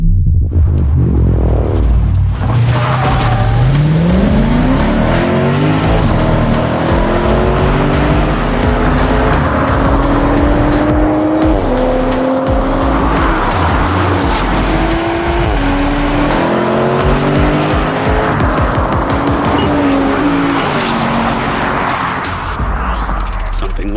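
A BMW V8 sedan and a Toyota Supra launch in a drag race, engines roaring loudly as they rise and shift through gears, with tire noise and a voice speaking over the sustained acceleration.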